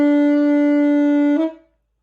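One steady saxophone note is held for about a second and a half, played with a fingering error, then breaks into a brief stray pitch blip as it is released and fades quickly to silence.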